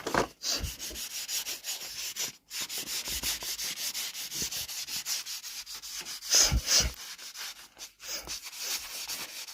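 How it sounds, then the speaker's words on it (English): Model railway track in 00 gauge is rubbed clean in quick back-and-forth strokes, a close, scratchy sanding sound with brief pauses between bursts. "What I'll do quickly, just clean that track off."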